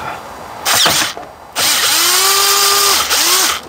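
A power drill whirs in two bursts while removing tight screws from a 2009 Ford F250 instrument cluster, the motor pitch rising and falling as it spins up and winds down.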